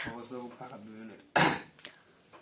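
A single sharp cough bursts out after a stretch of talking, loud and close, followed by quieter speech.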